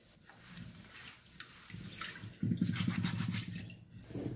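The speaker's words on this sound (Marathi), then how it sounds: "ह्या डाळीला आपण स्वच्छ धुवून घेऊया।" Two bowls of chana dal (split Bengal gram) are rinsed in water for puran poli. The soft, sloshing water sounds grow louder partway through, with no voices.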